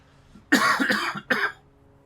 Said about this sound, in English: first cough of the day coming up, bear with me.